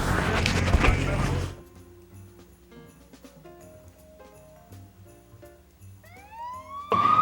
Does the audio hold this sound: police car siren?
yes